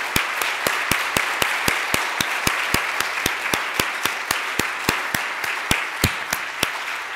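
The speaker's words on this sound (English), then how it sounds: "They deserve an awful large round of applause." A round of applause at an academic lecture event, heard as a sparse, loud, evenly spaced sequence of sharp claps close by against a softer background of wider clapping.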